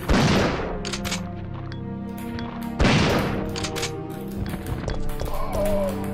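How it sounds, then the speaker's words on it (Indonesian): Gunfire in the video game Resident Evil 3 Nemesis, with two loud bursts of shots ringing out amid game effects and a lingering reverberant tail. "Ini nih, ada tembakan ini."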